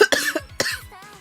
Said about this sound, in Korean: 기침이 계속 나서 기침만 안 나면 괜찮은데